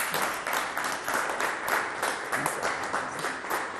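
Audience applause welcoming young Congolese women onto a stage at an evening show, a dense, steady wash of many hands clapping throughout with no voices standing out.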